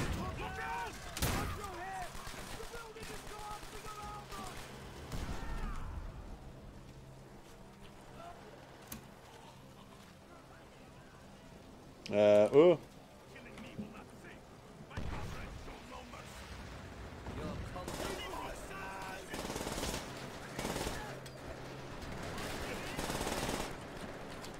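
Gunfire from the World War II shooter World at War, with scattered shots and bursts through the clip and one loud, sharp volley near the middle. The firing sits under steady background game sound.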